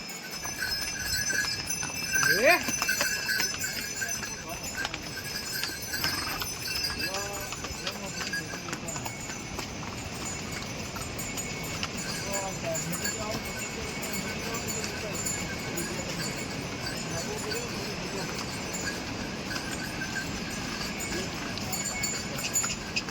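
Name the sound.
horse and mule hooves clip-clopping on a mountain road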